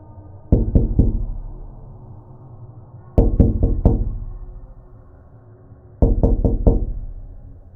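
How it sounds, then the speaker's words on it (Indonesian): Soft knocks on a door in a horror-story scene: three close, evenly paced groups of quick taps, each group ringing out briefly before a pause. "terdengar suara ketukan yang nyaris sama seperti ketukan yang April dengar tadi"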